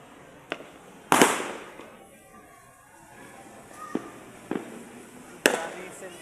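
Fireworks bursting at a New Year celebration: a few sharp, loud cracks spaced irregularly, with faint crackle and distant pops between them and background voices.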